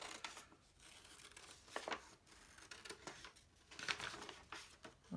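Scissors snip through paper while an elephant shape is cut out, giving several short crisp cuts and crinkles at close range, with quieter paper handling between them and no talking.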